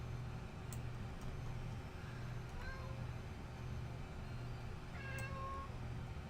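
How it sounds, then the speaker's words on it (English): A cat meows a few times, short faint calls over a steady low room hum and rumble, coming from somewhere in the room rather than close by. "Wait, is there a cat in the room?"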